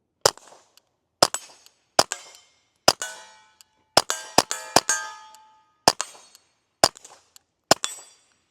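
A Ruger MKIV 22/45 Lite pistol fires about a dozen sharp .22 shots at an uneven pace, each crack loud and close with a short ringing decay and no talking.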